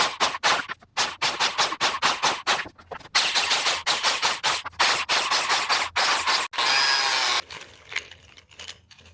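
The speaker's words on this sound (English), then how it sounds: "cut 356 slots in all my staves" Power tool cutting 356 biscuit slots into wooden barrel staves, heard as a run of short, loud, close whirring bursts separated by brief pauses, ending in a longer steady cut.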